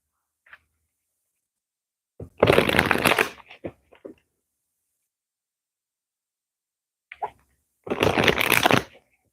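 A deck of tarot-style cards is riffle shuffled twice up close, each a dense one-second flutter of cards, separated by quiet with a few soft taps and handling noises.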